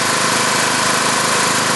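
A Tecumseh small engine runs loud and steady close by, its dense broadband roar holding without a break through the short clip, with no voices over it.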